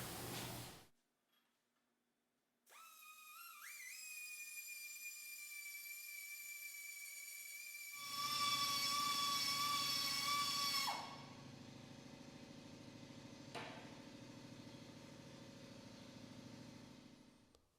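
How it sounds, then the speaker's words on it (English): A pneumatic die grinder with a carbide burr spins up to a high, steady whine and then bites into metal, the tone dropping and roughening into a harsh grinding buzz that carries on loudly and close. "I got the die grinder here with carbide burr"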